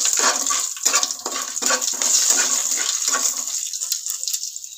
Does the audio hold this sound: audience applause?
no